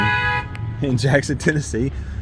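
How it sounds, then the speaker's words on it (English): A car horn sounds in a parking lot outside a liquor store in Jackson, Tennessee. It comes as a steady tone for about half a second, then a short second blip, and a person talks right after it. "Somebody's honking at me."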